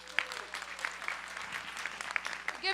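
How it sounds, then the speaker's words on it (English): Audience applause at a city budget engagement forum on a university campus, scattered and fairly faint, with individual claps and a few voices or whoops rising above the crowd. "Give yourselves a big round of applause"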